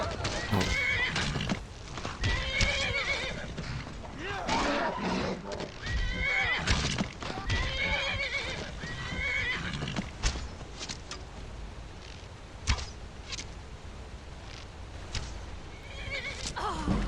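A horse in Skyrim neighs loudly and repeatedly with clip-clopping hooves, close and prominent, while someone talks over parts of it.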